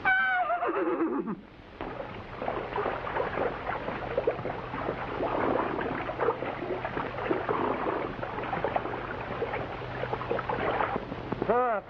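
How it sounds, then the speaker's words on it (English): A wild stallion whinnies loudly at the start, a long descending neigh, followed by a dense clatter of hoofbeats and commotion from a herd crossing open range, with another whinny at the close. "See the wild stallion coming across?"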